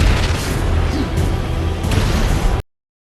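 Heavy booming blasts from thrown grenades in a film scene, loud and continuous with dense rumbling bursts, as the creatures give chase, before cutting abruptly to silence.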